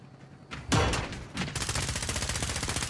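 Rapid automatic gunfire in the video game Call of Duty: Modern Warfare: a couple of close sharp bursts, then a sustained fast rattling stream of shots continuing steadily to the end, with no talk over it.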